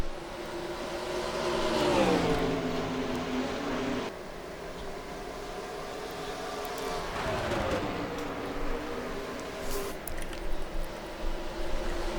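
Stock cars race at Dover in the Goodyear 200 throwback series, engines roaring loud and continuous as cars sweep past with rising and falling pitch, a second pass swelling later, under a commentator's voice.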